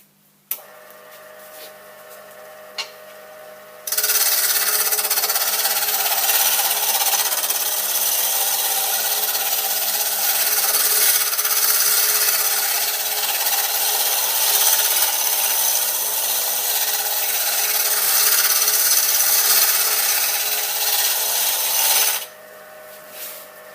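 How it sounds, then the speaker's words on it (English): A wood lathe spinning a length of timber as a chisel cuts it toward round, giving a steady loud scraping whir that holds for nearly twenty seconds before stopping, with quieter motor hum before and after. "timber as it gets smaller and smaller and it gradually approaches more round"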